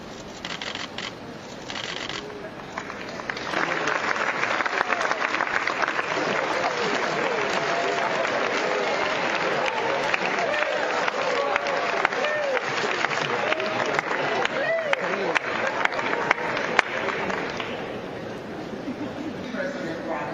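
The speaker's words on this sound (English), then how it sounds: "please give a round of applause" Sustained applause from a large audience at a Florida A&M university event, rising after a few seconds into steady, broadband clapping that continues at an even level for most of the stretch before easing slightly near the end.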